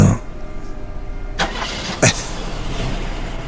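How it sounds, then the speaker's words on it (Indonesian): A car engine is started, with two sharp cranking bursts followed by a steady low running hum, fairly close, amid a faint background noise bed. "Ketika aku nyalakan mesin mobil,"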